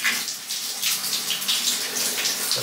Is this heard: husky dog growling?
no